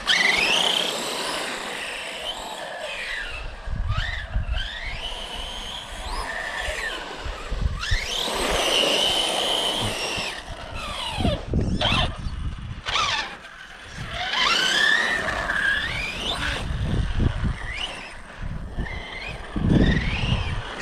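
A Traxxas E-Revo 2 RC car running on LiPo batteries in cold morning conditions whines and squeals in repeated bursts as its electric motor revs up and down, with tire scrub and quiet gaps between passes.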